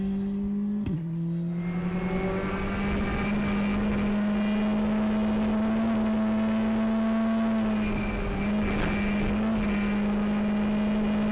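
Hyundai i20 rally car engine at the Ypres Rally, a steady, loud droning tone that holds a nearly constant pitch after a brief shift near the start, with no talk.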